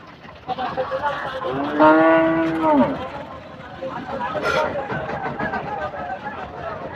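Cattle mooing at a huge cattle market in North Bengal, one long loud moo standing out amid a continuous murmur of crowd voices and market bustle.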